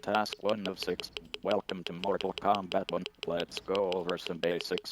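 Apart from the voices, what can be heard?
No everyday noise stands out behind the speech.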